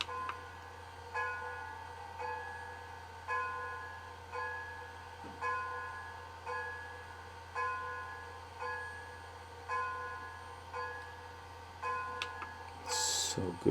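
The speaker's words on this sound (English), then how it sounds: "Function 1 is the bell." An HO scale Overland Models steam locomotive's TCS WOW sound decoder rings its bell in a slow, steady rhythm, about a dozen clear metallic strikes roughly a second apart, each fading before the next, heard alone.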